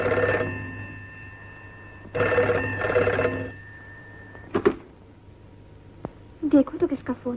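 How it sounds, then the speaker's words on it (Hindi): An old telephone bell rings in two long trilling bursts in a 1958 Hindi film scene, followed by quieter clicks and movement sounds, with voices briefly heard near the end. "देखो तो किसका फोन है।"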